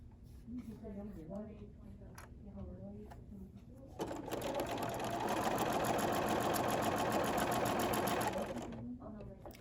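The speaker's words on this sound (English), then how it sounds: "I will chain piece these other 3 squares" A sewing machine chain piecing quilt squares for a nine patch block runs in one loud steady burst of several seconds, with brief quieter moments of speech before and after.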